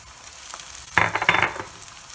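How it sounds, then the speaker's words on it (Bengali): Spices and tomato hit hot oil with frying onions for a tilapia fish curry, bursting into a loud sizzle with scraping stirs, close up and with no voices. "এখন আমি সমস্ত মশলা টমেটো একসাথে দিয়ে দিব।"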